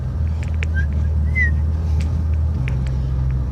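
A BMW E30 fitted with an M30B35 engine drives along steadily, its low engine drone continuous and close throughout, with a slight shift in pitch near the end and faint higher chirps over the top.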